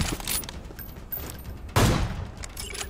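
A single sharp sniper rifle shot from PUBG Mobile cracks out loud and close, standing alone against a low game background din with no talking.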